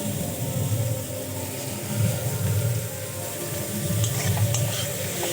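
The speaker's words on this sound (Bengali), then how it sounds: "কিছুক্ষণ আমি ভাজা ভাজা করে নেব।" Cabbage fries in a pan with salt and turmeric, giving a steady close sizzle with stirring scrapes that swell and ease in waves throughout.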